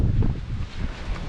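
Strong coastal wind buffeting the microphone in a steady low roar with gusts, outdoors on a windy shore near a parked car.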